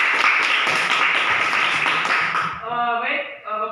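A classroom of students in an Indonesian language class clapping for a group, close, dense hand-claps for about two and a half seconds that then stop as voices take over.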